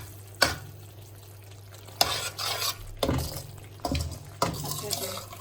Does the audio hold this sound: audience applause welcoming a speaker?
no